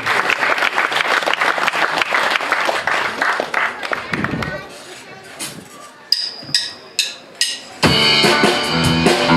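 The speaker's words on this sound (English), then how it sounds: "So big round of applause for Guy and Melvin." Loud crowd applause and cheering fills the first few seconds, then fades as a voice speaks, followed by a few sharp thumps and a burst of music.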